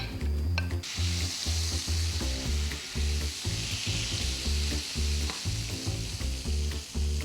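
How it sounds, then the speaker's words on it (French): Butter sizzles steadily in a heated frying pan, a loud continuous frying hiss with rhythmic low thumps underneath, close and constant throughout with no voices. "On va débuter par chauffer la poêle. Donc on rajoute notre beurre."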